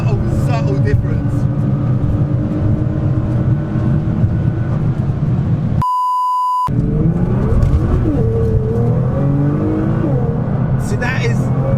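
A cheap Nissan GT-R driven with traction control switched off, a steady loud engine drone with shifting rev tones and a brief beep interrupting midway, talk over the top.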